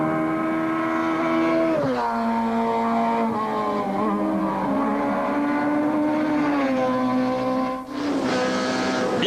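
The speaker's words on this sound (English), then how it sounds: "the Sasol Golf of Keenan Uris flies past and assumes the lead" A Sasol VW Golf rally car races past on a muddy track, its engine holding a loud sustained whine that shifts pitch through gear changes, with a brief dip near the end before the roar swells again.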